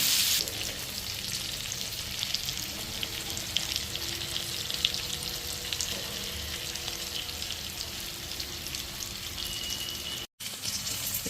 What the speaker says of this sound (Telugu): ఫిష్ చికెన్ లాగా కాదండి, త్వరగా ఫ్రై అయిపోతుంది.